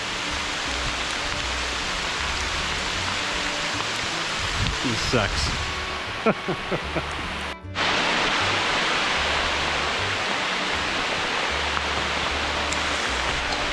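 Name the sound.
hail falling while backpacking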